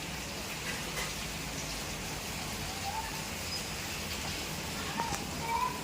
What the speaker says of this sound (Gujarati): વરસાદ મસ્ત મજાનો ચાલુ છે જો.